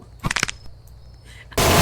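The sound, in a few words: gunfire in a Roblox video game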